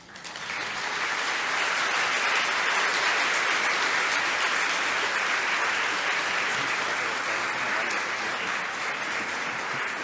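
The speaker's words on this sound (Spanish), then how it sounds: "fuerte el aplauso" Lecture audience applauding a speaker at an education event, a dense, even wash of clapping that swells in quickly and holds steady and loud for about ten seconds.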